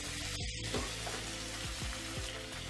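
Onions sizzle steadily in a hot pan for green tomato chutney, a close, continuous frying crackle with faint stirring scrapes.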